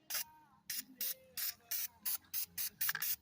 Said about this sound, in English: spray it with this surface shield.